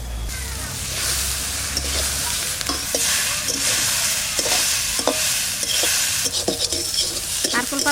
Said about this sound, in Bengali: এবারে মাছ ভাজা করে দিয়ে দেবো